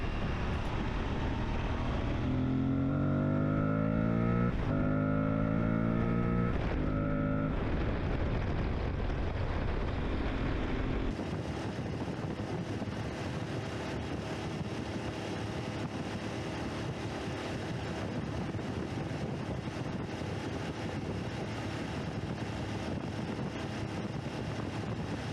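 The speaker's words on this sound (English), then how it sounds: "now I just get to enjoy the sound from my intake, angrily trying to kill the environment" An Aprilia Tuareg 660 motorcycle's engine intake roars while riding, rising through a few quick revs early on before settling into a loud, steady drone mixed with wind rush.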